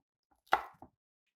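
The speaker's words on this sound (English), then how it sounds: "you want to go in and make sure you're cutting all of these quite finely" A knife chopping vegetables finely on a board, heard as one crisp near cut followed by a softer second tap, with silence around them.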